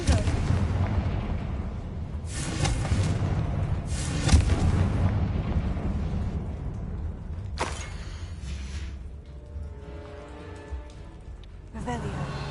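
Repeated fire-spell explosions in the video game Hogwarts Legacy, cast inside a tomb: heavy booming blasts over a constant rumbling backdrop, several distinct bursts spread across the stretch, with a player speaking over them.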